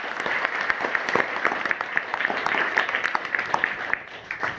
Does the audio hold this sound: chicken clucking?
no